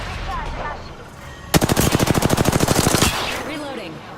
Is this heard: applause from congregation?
no